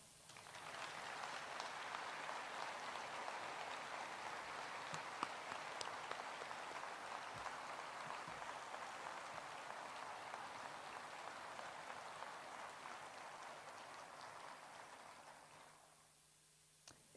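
Audience applause at a veterans' honoring ceremony recognizing national veterans' leadership, a steady wash of many hands clapping at moderate distance for about fifteen seconds before fading out.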